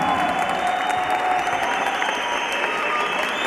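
Audience applause for two boxers at the end of an amateur boxing bout in Turkey. Dense, steady clapping fills the whole stretch, loud and continuous with a light crowd murmur underneath.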